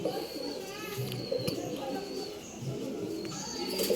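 Pigeons coo in a low, repeated rumble through the clip, a pair shown for sale, with a few higher chirps above and steady background noise; a voice talks over part of it.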